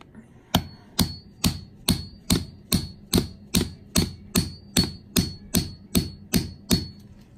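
A cheap hammer strikes a PVC pipe pressed over a coin ring on a ring mandrel, about seventeen sharp knocks at a steady, even pace, each ringing briefly, with no speech.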